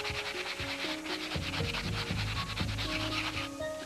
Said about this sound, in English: I have to sand those pieces down